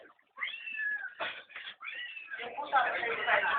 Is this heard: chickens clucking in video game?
no